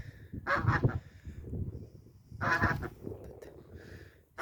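Two loud goose honks sound a couple of seconds apart, close by, with a quieter honking call trailing after.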